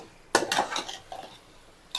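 A 3/4 kg batch of marinated chicken for biryani is stirred in a pot over a full flame: a few sharp metallic clanks and scrapes of utensil on pot come in brief bursts, separated by quiet gaps.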